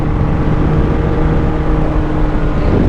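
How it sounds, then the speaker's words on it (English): A Honda CB700SC Nighthawk motorcycle is ridden on a canyon road. Its engine holds a loud, steady, close drone mixed with wind rush, and no distinct downshift stands out. "I'm gonna downshift right here."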